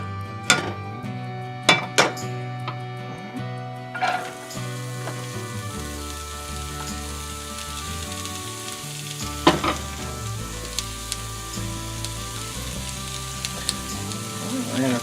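Food cooking down in a pan for a glazed meatloaf, with garlic, thyme and rosemary going in, sizzles in a steady bed of frying noise. Occasional clinks of utensils against the pan sound over it, and no one talks.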